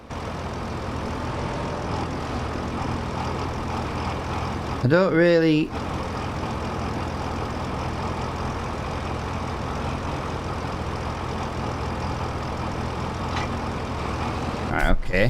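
A tractor engine in a farming video game drones steadily throughout at a constant low pitch, with a brief louder burst midway and a voice speaking over it.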